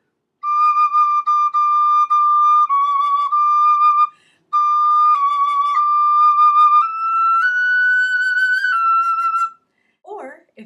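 A tin whistle plays a melody, with clear sustained notes and several breath breaks, loud and close, with no other sound behind it.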